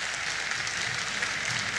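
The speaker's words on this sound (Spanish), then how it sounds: "Un gran aplauso también para el profesor." Audience applause for a teacher at a Patagonian school festival, a dense, steady wash of many hands clapping at once, sustained and fairly even in loudness throughout.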